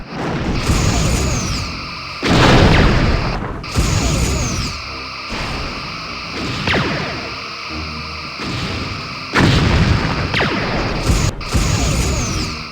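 Low-intensity phaser fire in the Star Trek: Bridge Commander space combat game, loud electronic sweeping beam bursts in several long pulses, with crashing impacts and a steady background hum.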